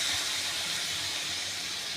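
Steady loud hiss of a little water poured onto cumin, coriander, pepper and Kashmiri chilli powder frying in a pan while making paneer, a continuous steamy sizzle with no talking.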